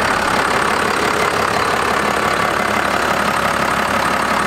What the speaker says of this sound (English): just gave her some revs to see if she made any weird sounds